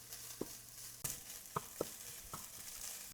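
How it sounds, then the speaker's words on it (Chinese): Cooked rice being stir-fried in a wok for egg fried rice with soy sauce, a few sharp scraping clatters of the spatula spaced irregularly over a faint steady sizzle, close and moderately quiet. "翻炒一下"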